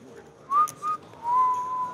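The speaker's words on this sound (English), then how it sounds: "Whistling." A person whistles a few short rising notes, then one longer sustained tone, clear and fairly close against a quiet background during a poker game.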